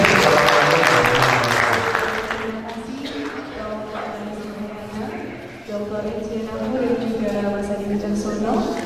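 Dense audience applause at an Indonesian poetry evening event, loud at first and thinning slightly, with voices and a murmuring crowd over the clapping.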